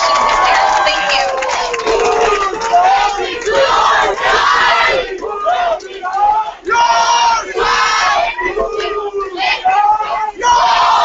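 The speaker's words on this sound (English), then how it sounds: "one more round of applause for our candidates" Student crowd at a university presidential debate cheering and applauding for the candidates, loud whoops and yells over dense clapping, surging in waves for several seconds.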